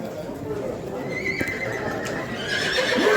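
A bay horse at the Sokuluk horse market whinnies loudly and nearby, its neigh rising over a busy murmur of crowd noise and the steady clop of hooves from the surrounding stalls.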